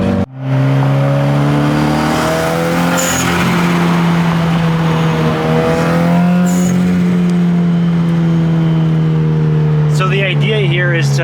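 Built Subaru WRX engine revving up toward 5,000 RPM and holding, a loud, sustained harmonic engine drone with rising and falling pitch, close to the microphone, ending with a few sharp clatters.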